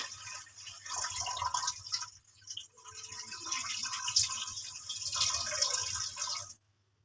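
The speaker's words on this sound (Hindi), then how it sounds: "अब मैं इस पानी को गिरा देती हूँ" Water used to wash spinach being poured out of a container into a sink, a quiet splashing and trickling stream with a brief pause midway, then stopping abruptly.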